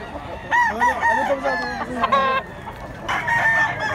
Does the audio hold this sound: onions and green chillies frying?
no